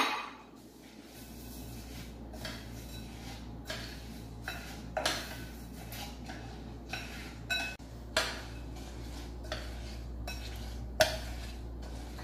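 Cornflakes, chocolate and peanut butter mixture stirred in a bowl for chocolate balls, with soft scraping and a run of small clinks and taps of a utensil against the dish, close and fairly quiet, no talking.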